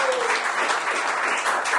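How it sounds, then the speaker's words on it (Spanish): Audience applause for Itzel at an anniversary gathering, a full, even burst of many hands clapping that holds steady for the whole moment, with a faint voice briefly underneath. "Un aplauso para Itzel."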